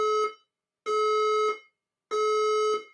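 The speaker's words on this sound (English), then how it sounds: "Warning. The fire alarm system is operated." A fire alarm system sounds three long, loud electronic tones, each lasting about half a second to a second with short gaps between them, and nothing else is heard.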